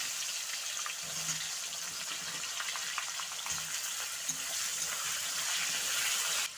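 Onions with bay leaf, whole garam masala and a little cumin sizzle in hot oil in a pan, giving a steady soft crackle with occasional stirring scrapes. No voices are heard.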